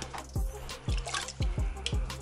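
Water splashes and glugs into a cooking pot in a series of close, hollow pours, with a falling gurgle roughly every half second.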